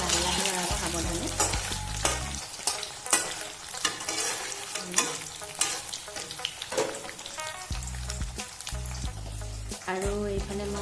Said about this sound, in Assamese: লৰাই দিছোঁ, লাহে লাহে লৰাব সাৱধানে।